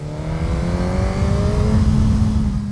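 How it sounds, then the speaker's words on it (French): A Suzuki 950 inline four-cylinder motorcycle engine revs loud and close, its pitch climbing steadily in one smooth, continuous pull with no talk over it. "c'est un gros 4 cylindres en ligne qu'on a."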